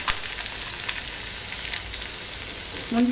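Cashews, green chilli, ginger and curry leaves frying in oil for rava pongal, a dense, even crackling sizzle heard alone and close, with a short spoon scrape at the end.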